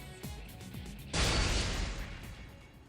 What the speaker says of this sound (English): a eruption sound like a small explosion shakes the entire room